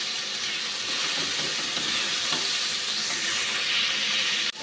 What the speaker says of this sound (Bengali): এখন আদা বাটাটা দিয়ে দিচ্ছি।